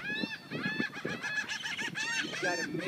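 Birds squabble over food at a feeder in a dense, continuous chorus of loud, harsh honking and squawking calls that overlap one another without pause.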